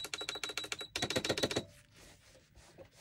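A sewing machine runs cross stitching on a Halloween junk journal cover, fast rhythmic clattering in two short bursts, then stops and leaves quiet handling noises.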